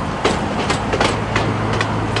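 A pumpkin patch ride train runs with a steady low rumble and a rhythmic clickety-clack of wheels on rails, heard up close and continuously throughout.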